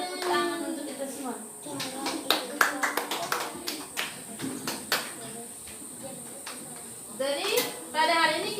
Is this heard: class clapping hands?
yes